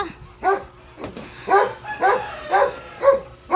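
Several dogs bark indoors near a heated electric pan, giving short close yaps in an irregular run of about six sharp bursts with brief whimpers in between.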